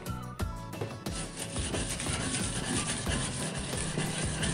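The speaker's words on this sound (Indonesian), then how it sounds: "Saya asah menggunakan amplas." Steady, close rasping as a handmade pen knife's blade is sharpened on sandpaper, a continuous loud scraping with a few short strokes at the start.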